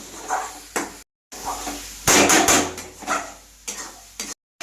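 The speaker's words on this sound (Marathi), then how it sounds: "बघू शकता की मस्त पैकी असा आपला मसाला फ्राय होतो आहे" Masala with red chilli powder and kitchen king spice fries in a pan for anda ghotala, with bursts of sizzle and scraping stirs, close, interrupted by short silent gaps.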